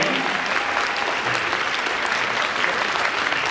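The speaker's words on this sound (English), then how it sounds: "Let's give a big round of applause" Audience applause from a live stage show fills the room, dense steady clapping at even loudness throughout.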